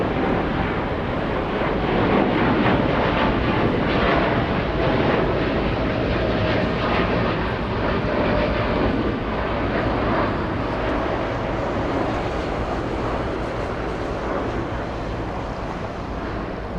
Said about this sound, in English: Let me give you some flight information for the Dreamliner taking off.